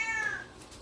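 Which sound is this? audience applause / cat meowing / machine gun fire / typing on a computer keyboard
cat meowing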